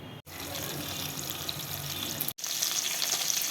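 Koi fish pieces frying in oil, turned side to side, give a steady close hiss and crackle that runs without pause, with two very short breaks in the middle.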